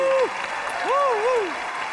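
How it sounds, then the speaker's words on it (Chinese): A studio audience in a Chinese TV talent show applauds a contestant onto the stage: steady, dense clapping throughout, with a voice rising and sliding over it partway through. "掌声有请赵小叶啊"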